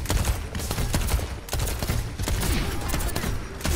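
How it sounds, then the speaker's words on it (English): Gunfire in the video game Overwatch, including a missed sniper shot: sharp, repeated bursts of shots and impacts over a busy, loud game mix with no clear speech. "The sound of like a sniper missing"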